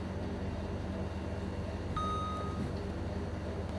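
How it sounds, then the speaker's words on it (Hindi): A DJI Ronin-S camera gimbal powering on gives a single clean electronic beep lasting about half a second, clear over a quiet indoor room hum. "और ऑन होते ही इसमें एक बीप की आवाज़ आएगी।"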